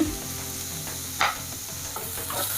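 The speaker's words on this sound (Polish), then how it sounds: "I teraz wrzucam grzyby. I będę je chwilę smażyć." Forest mushrooms frying in butter in a pan, a steady soft sizzle with occasional stirring scrapes and a brief louder crackle.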